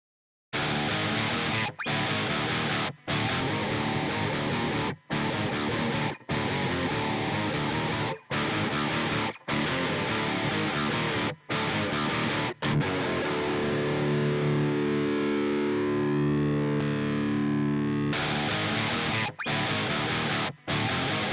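A heavily distorted electric guitar plays through a Toneforge Menace 412 cab simulation in loud, chugging riffs broken by brief stops, with a sustained ringing passage partway through.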